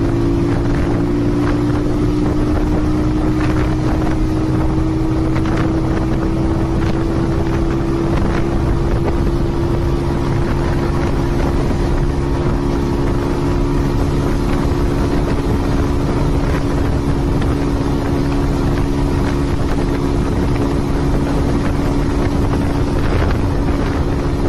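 A Bajaj Pulsar 180 motorcycle running flat out at top speed on an open stretch near Devarayana Durga hills in Tumkur, Karnataka: a steady close engine drone that climbs slightly in pitch, buried in constant loud wind rush, with no talking.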